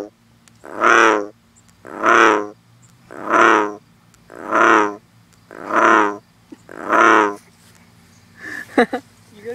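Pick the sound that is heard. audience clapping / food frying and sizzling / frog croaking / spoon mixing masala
frog croaking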